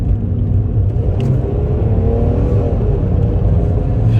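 A 1986 Nissan Maxima's V6 engine is revved, giving a loud, close, continuous rumbling drone that swells and holds steady with no talking over it.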